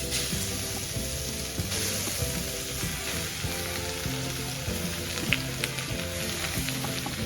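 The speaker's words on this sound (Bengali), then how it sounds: "এই গাজরটাই কড়াইটার ভেতরে দিয়ে দেব" Grated carrot frying in ghee in a kadai for carrot halwa, a steady loud sizzle with faint stirring scrapes, no talking.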